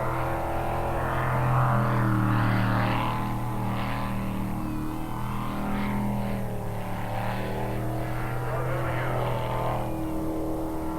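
A powerful jet boat engine roars at high speed while racing on a track, its pitch wavering slightly as it runs, heard from a moderate distance.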